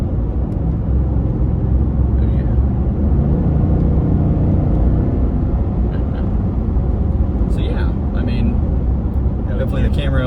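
Ford F-150 XLT with the 5.0-liter V8 and 10-speed automatic cruising on the highway, a steady low engine drone and road rumble filling the cabin throughout, with occasional light clicks and rattles near the end.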